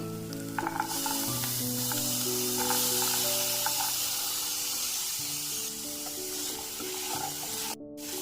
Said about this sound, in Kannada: ಇವಾಗ ಇದ್ರ ಜೊತೆ ನಾನು ಸೇರಿಸ್ಕೊತಾ ಇದ್ದೀನಿ ಬಟಾಣಿ ಸೇರಿಸ್ಕೊತಾ ಇದ್ದೀನಿ